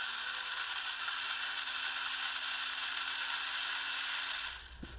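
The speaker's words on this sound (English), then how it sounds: "I'm going to put some electricity to these motors" Small electric motors and plastic gears of an old Radio Shack toy tank whirring steadily with a ratcheting, gritty mechanical buzz, close and continuous, then winding down abruptly near the end.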